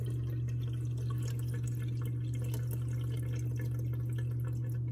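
Water drains out of a dishwasher with a faint trickle and drip over a steady low pump hum, continuous and close.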